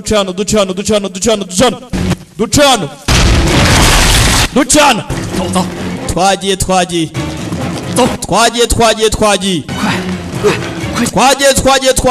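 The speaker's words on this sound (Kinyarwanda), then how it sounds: "ibisasu mu nda yacyo kiraturika" A loud, rumbling bomb explosion bursts out in the middle of excited voices, lasting over a second before the talking resumes.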